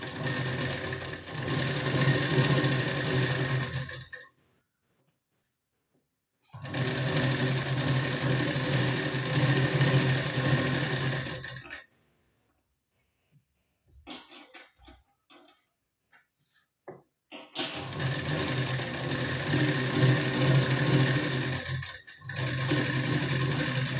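A home sewing machine stitches a blouse waistband in three long close, loud runs of steady whirring, separated by quiet pauses filled with light handling and clicks of the fabric.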